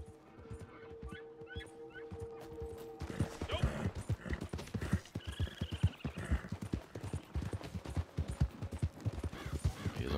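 A horse ridden in Red Dead Redemption 2 Online, with a quiet start giving way to a rapid, steady clip-clop of hooves close by, over outdoor ambience and a brief faint animal call.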